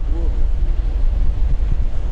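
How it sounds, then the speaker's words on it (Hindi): Strong storm wind buffets the deck of a cruise ship sailing from Jeju to Busan, heading straight into the gusts; a steady, loud roaring rumble fills the whole stretch, with a brief voice early on. "बहुत तेज़ हवा है, बहुत तेज़ हवा है यार।"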